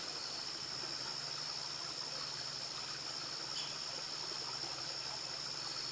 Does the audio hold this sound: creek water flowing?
yes